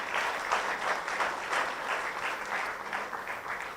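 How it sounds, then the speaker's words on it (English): An audience at an anniversary celebration gives presenters a steady round of applause, dense clapping that holds at an even level throughout. "I would like to ask everyone to give a round of applause to our presenters"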